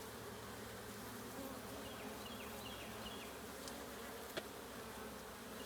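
Honeybees buzz continuously around an opened beehive, a dense, steady hum of many insects with a few single bees droning closer by, and no talking.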